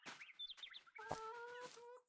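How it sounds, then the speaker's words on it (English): Chickens cluck and chirp in a Farming Simulator 22 coop, a few short bird calls followed by sustained tonal sounds from the game, close and fairly quiet. "Here's the chickens. They're all looking good."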